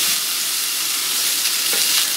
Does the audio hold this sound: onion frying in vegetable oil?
yes